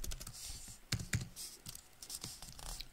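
Keys clatter on a Dell XPS 15 laptop keyboard in quick, irregular bursts of soft clicks with a few sharper taps, close and fairly quiet with no talking.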